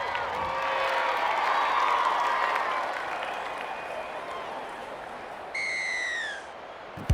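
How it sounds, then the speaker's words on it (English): A stadium crowd roars and applauds in the Rugby League 26 video game during a Mexico versus USA test match, a steady dense wash of cheering with a brief high whistle-like tone near the end. "The crowd love that one and are on their feet applauding the play."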